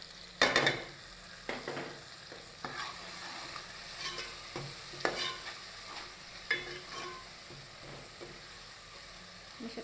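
A potato curry masala with tomatoes, turmeric, salt and red chilli powder fries softly in a pan, with a sharp scrape at the start, then steady low sizzling and occasional spoon strokes.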